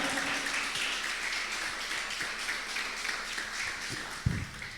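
A church congregation applauding during a sermon, sustained dense clapping from many people that fades slightly toward the end.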